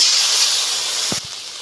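Dried red chilli paste with cumin paste, cardamom and cinnamon sizzling in hot oil for a village-style live snakehead fish curry, a loud steady hiss that drops slightly near the end, with a brief low clatter.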